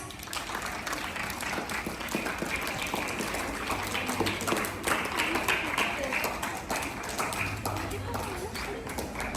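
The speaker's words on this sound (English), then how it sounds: "Give them a huge round of applause." A school audience applauds at an investiture ceremony, a dense, continuous roar of clapping that holds steady throughout without letting up.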